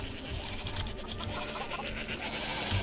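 Sheep bleat in the game Minecraft inside a modded farm setting, several short cries repeating over a busy, dense game soundscape with no talking.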